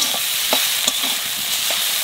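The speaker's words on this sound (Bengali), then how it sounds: "এইবার মেথি শাক ভাজবো।" Fenugreek leaves with a little salt are stir-fried in a pan: a close, continuous sizzle with rhythmic stirring scrapes every half second or so.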